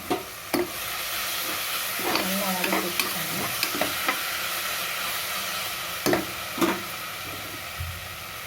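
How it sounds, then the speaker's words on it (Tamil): Ginger garlic paste sizzles and fries steadily in a pot for chicken biryani, a constant close hiss with the occasional scrape and knock of a spoon stirring. "நல்லா வதக்கி வச்சுக்கணும் இப்போ இஞ்சி பூண்டு விழுதுகளை கொஞ்சம் போட்டுக்கோங்க"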